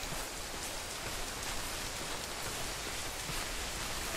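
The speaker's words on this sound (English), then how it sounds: "And now it's starting to rain." Steady rain falling all around in woods, a dense even patter with no voices, constant in level throughout.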